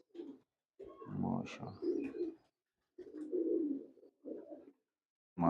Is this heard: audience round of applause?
no